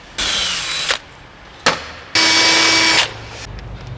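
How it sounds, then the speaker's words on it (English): An 8mm bit in a power drill bores pilot holes for splitter bolts on a 2018-2020 Hyundai i30N hatch, in three bursts: a steady whine, a brief stab, then a longer higher-pitched run, with quiet gaps between. "take your 8mm drill bit and drill pilot holes for the bolts that go on this side and the other side"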